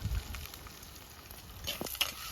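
Chopped onion and green chili fry in a hot pan for a Sunday mutton tripe and bottle gourd kuzhambu, giving a soft, steady sizzle with a few brief crackles and stirring scrapes near the end.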